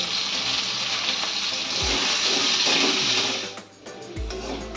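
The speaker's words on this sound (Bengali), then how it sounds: "এবারে আলুর মধ্যে সামান্য নুন আর হলুদ দিয়ে আলুটা লাল লাল করে ভেজে নেব" Potatoes frying in oil with salt and turmeric, a steady bright sizzle that runs on without talk and dips briefly near the end before picking up again.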